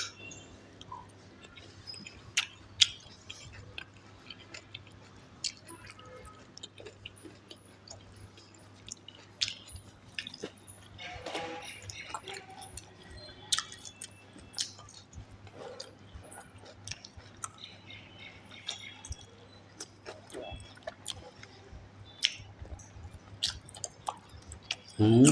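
Someone eating cabbage kulambu, soft wet chewing and squishy bites close to the mic, scattered irregular clicks and smacks across a long stretch over a quiet low hum, with no talk.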